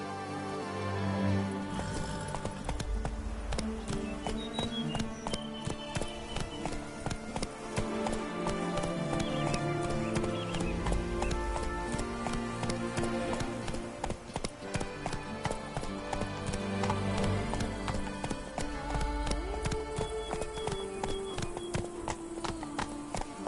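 Roach, a horse in a video game, trots with a steady clip-clop of hooves, mixed in with loud continuous orchestral music and effects.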